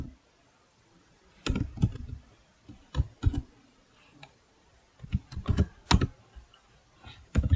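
Computer keyboard being typed on while entering code, irregular bursts of crisp clicking keystrokes separated by short quiet gaps, close and fairly loud, no talking.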